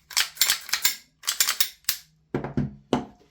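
Sig Air Proforce M17 (P320) gas blowback airsoft pistol by VFC, its slide being fitted and snapped back on: a quick series of crisp metallic clicks and clacks in bursts, close up, with no talk.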